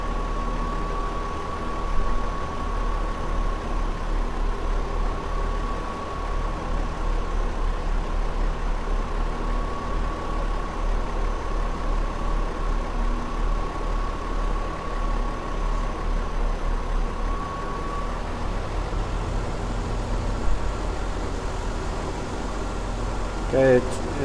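A Ford Escape engine running at a high idle with a P1506 idle fault, a steady mid-to-low drone with a constant whine, close and unchanging for the whole stretch, with a small bump near the end.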